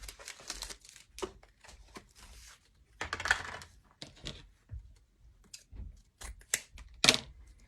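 Snipping through ribbon for a Valentine's grapevine heart wreath, with short crisp scissor cuts and crinkling rustles scattered irregularly, fairly close and quiet, no talking.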